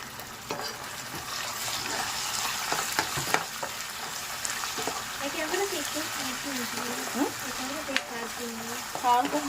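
Onions fry with ginger and masala in a pan, a low continuous sizzle with occasional utensil clicks, while a voice talks faintly in the background.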